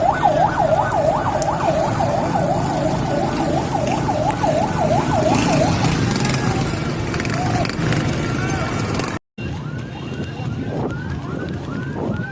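Wailing ambulance siren rising and falling in loud rapid cycles over a roaring crowd at a junction after a car bomb explosion, shouting voices throughout; the wail fades after six seconds, then a brief dropout and continued crowd noise.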